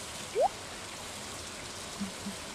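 Steady soft rainfall in the Stardew Valley video game, an even hiss of drops falling over a quiet lake, with a brief rising chime and a couple of faint blips over the constant patter.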